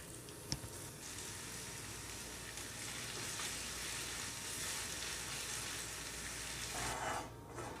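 Crushed ginger and garlic fry in coconut oil in a pan, giving a steady, soft crackling sizzle throughout with one brief tap near the start. No one speaks over it.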